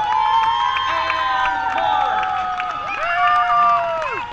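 Studio audience on a Fear Factor set cheering and applauding loudly, with whoops and shouted voices riding over a dense crowd roar.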